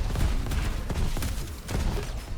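Rocket fire and explosions in a Diabotical duel cup final, with repeated thumping blasts and impacts in a rapid, busy sequence at a steady loudness.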